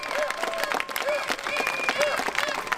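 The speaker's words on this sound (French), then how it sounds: "On peut lui faire encore de gros applaudissements" Applause and clapping from a crowd at an outdoor anti-health-pass protest rally in Limoges, sustained and fairly loud, with cheering voices and a voice over a loudspeaker.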